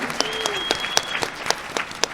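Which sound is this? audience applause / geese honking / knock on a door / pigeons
audience applause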